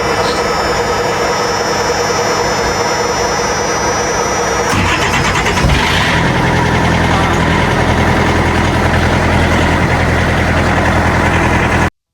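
A vehicle engine cranks and catches in freezing cold, minus ten degrees, then settles into a steady, loud idle that drones on close by without a break.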